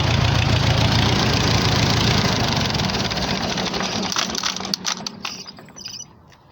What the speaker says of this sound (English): I don't think it's running on all 4 cylinders either, but I don't want to overheat it.